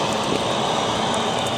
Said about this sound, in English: sounds like a jet's taking off